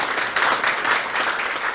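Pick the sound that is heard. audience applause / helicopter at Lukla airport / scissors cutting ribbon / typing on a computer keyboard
audience applause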